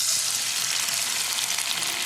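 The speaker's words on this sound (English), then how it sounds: "I'm gonna pour my egg in." An egg fries in an eco-friendly GIPP nonstick pan, a steady, loud, close sizzle with a dense crackle that stays even throughout, with no talking.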